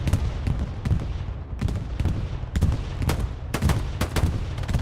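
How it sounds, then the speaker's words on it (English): Bursts of gunfire and bombing-run blasts in the Hell Let Loose video game: rapid, sharp cracks and thuds arrive in uneven clusters, loud and close, with no talking. "That looks to be a KRRC bombing run."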